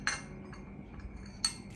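Cutlery set down on a dining table while laying out a formal place setting, with two light, faint metallic clinks spaced well apart in a quiet room.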